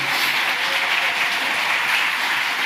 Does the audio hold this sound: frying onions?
no